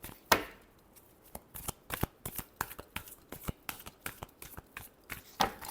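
Close, quiet hand shuffling of tarot cards, a string of soft crisp riffles and taps with a few sharper snaps, heard alone without any voice.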